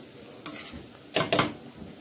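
Eggplant and potatoes frying in a pan until browned, with soft stirring scrapes and two brief bursts of sizzling in a quiet kitchen.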